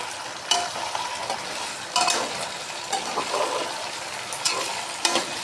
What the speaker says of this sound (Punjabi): ਇੱਧਰ ਆਪਾਂ ਅੱਧੀ ਰੱਖ ਦਿੱਤੀ ਆ ਫਰਾਈ ਕਰਨੀ